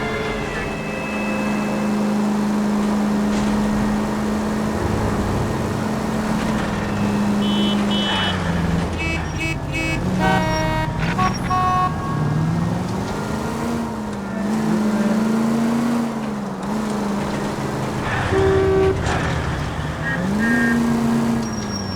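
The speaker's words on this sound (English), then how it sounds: "That's the car, Cole. Just pulling out of the drive." A car in LA Noire pulling out of a driveway, its engine revving and shifting pitch in several rising and falling swells over a steady drone, with music and other game sounds layered on top.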